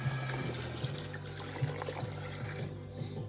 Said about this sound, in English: Got the water boiling for the jars so we can boil them up and seal them.